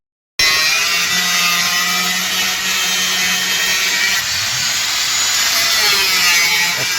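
A power tool cuts through a pipe on a work site in a steady, loud, continuous whine that holds for several seconds after an abrupt start. No one speaks.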